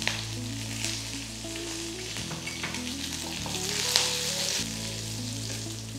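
Seeded dry red chillies and a small handful of curry leaves fry in hot oil for a quail egg curry, a steady close sizzle under soft background music.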